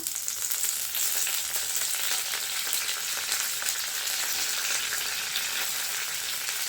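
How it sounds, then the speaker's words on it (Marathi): Curry leaves frying in hot oil with sautéed garlic for a tangy fish curry, giving a loud, bright, continuous crackling sizzle close up throughout, with no voices. "लसूण मस्त छान आपला परतून झालेला आहे तर या स्टेजला आपण काय करणार आहोत ह्याच्यात टाकून घेणार आहोत कढीपत्ता"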